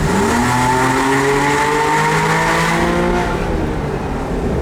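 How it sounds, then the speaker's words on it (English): A car accelerates hard on an Italian road, its engine loud and close, climbing through gears in rising harmonic sweeps with a steady roar throughout and no talk. "Finally back on the big roads, and we can open up this car."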